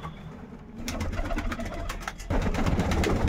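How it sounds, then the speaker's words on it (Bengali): A pair of pigeons coo in soft, low, repeated bursts, close and fairly loud, with faint rustling and no speech. "এই এক জোড়া কবুতর আছে"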